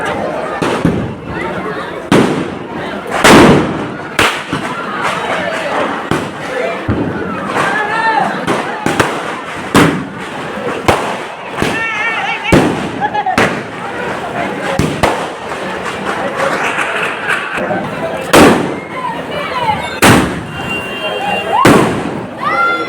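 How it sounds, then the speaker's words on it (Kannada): Firecrackers burst at a village Diwali fair, a long series of loud, sharp bangs at irregular intervals, some close together, with crowd noise and people talking in between. "ಪಟಾಕಿ ಮೇಲೆ ಪಟಾಕಿ ಹೊಡಿತಾವ್ರೆ."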